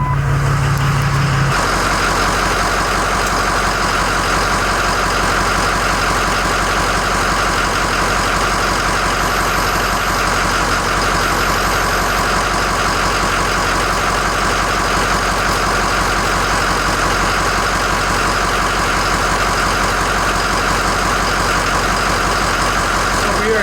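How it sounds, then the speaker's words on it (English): A Ford 6.0 truck engine idles steadily up close, a continuous low rumble with no breaks. "the engine is running when we check this fluid"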